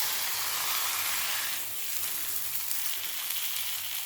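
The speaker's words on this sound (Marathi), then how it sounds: "आता हे तेल हळू असं सगळ्यावर सोडायचं आहे" Oil poured over a thalipeeth made from fasting bhajani flour sizzles on a hot pan over full heat, a close, steady hissing crackle that swells briefly and carries on without talk.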